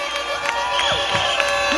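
A crowd cheers and shouts at a campaign rally in Zumpango, a dense, continuous wash of voices and whistles with rising and falling calls, moderately loud throughout.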